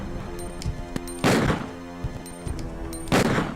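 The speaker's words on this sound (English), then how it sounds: "As do the sounds of thudding footprints there." Heavy, booming footsteps of the tyrant Mr. X in Resident Evil 2 (Bio Hazard 2) thud in slow, evenly spaced steps, each a deep impact with a sharp crack on top, under a faint music tone.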